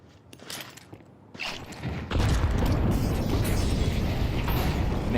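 Grenades thrown and bursting in Counter-Strike during a professional esports grand final, a few clicks and pops giving way to a dense, sustained roar of detonations and smoke that fills the second half.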